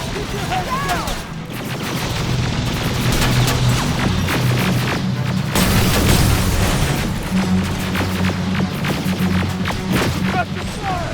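Heavy gunfire in the Terminator: Resistance game, with continuous overlapping shots, booms and crashes forming a dense, loud battle din, and voices shouting over the fighting.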